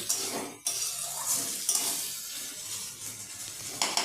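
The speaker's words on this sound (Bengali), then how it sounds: "এরপর আমি আবারও এই সবজিগুলোকে খুব ভালোভাবে নেড়ে চেড়ে ভেজে নিচ্ছি" Vegetables for sooji upma sizzle in a pan while being stirred, a close, busy frying hiss broken by scraping and clinking against the pan, with no talking.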